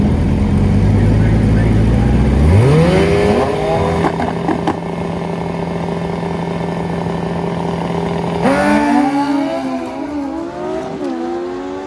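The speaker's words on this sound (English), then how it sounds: "How about this Turbo Bandit left lane?" Turbocharged Suzuki Bandit motorcycles launch in a drag race at Crossville, with engines revving hard and climbing through rapid upshifts. A second bike roars through its gears partway through, loud and close over steady background crowd noise.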